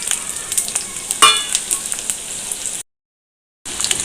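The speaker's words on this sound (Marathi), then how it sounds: "कढईत तेल टाकून गरम करून घेतलेला आहे त्यात आपण आता झिंग्या परतून घेऊयात" Prawns sautéing in hot oil in a wok make a close, crackling sizzle with spattering pops and a sharp burst early on, alone, broken by a short stretch of total silence.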